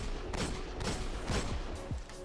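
Hand cannon fire in the Destiny video game: three or four sharp shots at irregular intervals, loud and close against constant background game noise.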